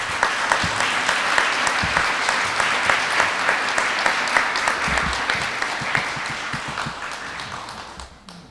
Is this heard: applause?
yes